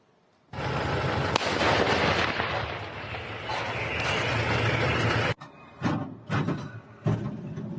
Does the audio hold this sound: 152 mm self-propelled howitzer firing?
yes